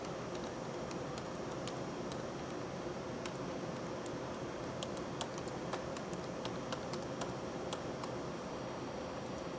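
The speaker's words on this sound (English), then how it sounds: "you'll type in the password" Password keystrokes on a computer keyboard, a scattered run of light clicks and taps over a steady hiss of room noise, fairly quiet and irregular, with no talking.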